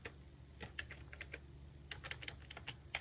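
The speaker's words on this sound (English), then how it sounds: "I'm typing it in right now." Quiet, close clicking of keys on a computer keyboard comes in irregular bursts, with scattered keystrokes and short pauses against a low background hum.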